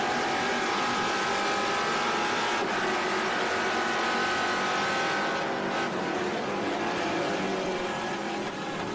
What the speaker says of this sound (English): We're on board with Andretti, right in the thick of it